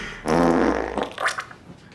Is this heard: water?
no